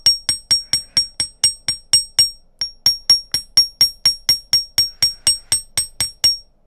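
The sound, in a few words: hammering a necklace piece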